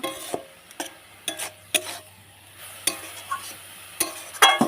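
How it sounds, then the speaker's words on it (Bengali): Intermittent scraping and clacking of a utensil stirring kodai greens with turmeric in a pan, with soft sizzling underneath and irregular strokes. "এবার এটাকে আমি নেড়ে দেবো"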